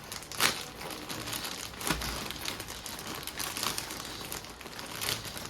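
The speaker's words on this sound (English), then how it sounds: "Now opening the box, they have sent the package like this." Plastic packaging crinkles and rustles as a small Bajaj Pygmy Mini personal fan is unpacked from its box, with several crisp crackling bursts spread over a soft, continuous handling noise.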